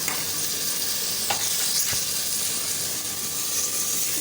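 Green chilies and tomatoes frying in a hot masala, a steady close sizzle and hiss with occasional stirring scrapes throughout, no voices.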